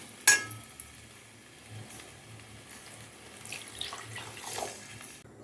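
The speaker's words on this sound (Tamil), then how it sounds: "இப்போ ஒன்றுக்கு ஒன்றரை கப் அளவுக்கு தண்ணி வச்சுக்கலாம்" Water poured into a pot of chicken biryani, a soft, steady running splash heard close by and fairly quiet, with a faint clink near the start and no talking.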